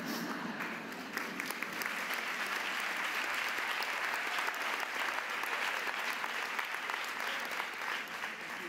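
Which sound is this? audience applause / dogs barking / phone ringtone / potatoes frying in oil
audience applause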